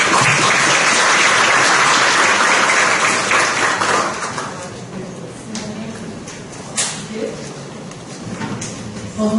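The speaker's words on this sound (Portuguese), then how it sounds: "uma salva de palmas" A round-table audience bursts into loud, dense applause that holds strong for about four seconds, then thins into scattered fading claps and a few faint room noises.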